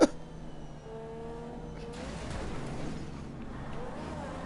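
A car drives in GTA 5 Online, its engine note shifting and revving at a moderate level with faint tire noise, as the car winds down a spiral ramp.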